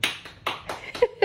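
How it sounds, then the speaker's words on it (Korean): A few quick hand claps, close and sharp, sounding in short uneven bursts over about a second, with no talk alongside. "박수!"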